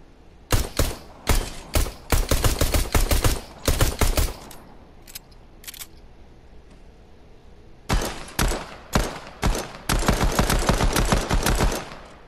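Pistol in the video game Fortnite firing in rapid bursts of sharp, loud shots, a pause with a few mechanical reload clicks, then more fast volleys of shots.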